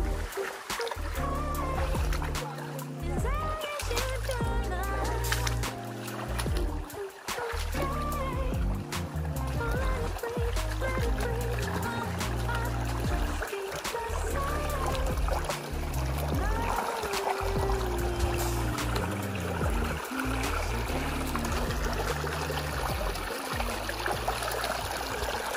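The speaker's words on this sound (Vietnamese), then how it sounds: "Cho các bạn nghe tiếng suối nè." A stream at Suoi Tien in Mui Ne flows with a continuous rushing, burbling wash, close and steady throughout, with a few sharp knocks and rustles from people moving nearby.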